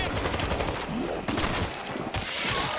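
Gunfire in the zombie shooter World War Z, with loud rapid volleys of automatic shots in close, repeated bursts and brief gaps between them, under some voices.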